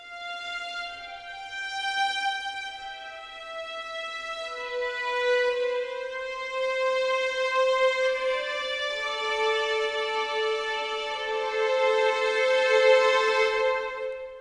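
Sustained orchestral string pads from an M-Audio keyboard, swelling and easing in volume under mod wheel control as long held chords shift across about fourteen seconds, played alone with no talking.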